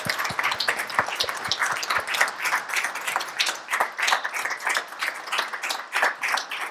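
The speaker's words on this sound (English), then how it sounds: "And so we really do applaud you." A studio audience applauds at the close of a radio interview, dense steady clapping that carries on for several seconds with no voices over it.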